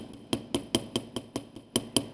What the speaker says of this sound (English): this one is called the planishing hammer, and I use it a lot for flattening